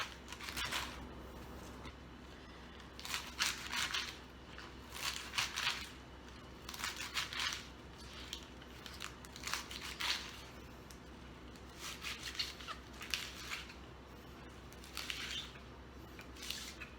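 A knife chops through a head of lettuce in bursts of crisp, crunchy cuts, near and quiet, with short pauses between the rounds of slicing.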